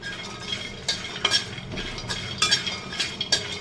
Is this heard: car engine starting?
no